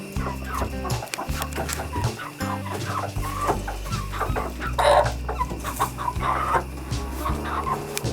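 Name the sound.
chickens clucking in new chicken coop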